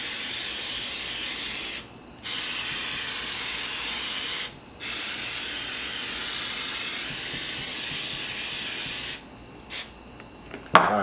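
Cooking spray hisses over pork chops seasoned with citrus zest and lemon pepper in several long, steady bursts separated by short pauses, close and fairly loud.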